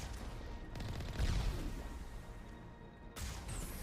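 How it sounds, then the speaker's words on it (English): Incoming rockets exploding in the Mass Effect video game, a dense rumbling blast with a heavy low thump, continuous crackling battle noise, and a second burst near the end. "we got more rockets incoming"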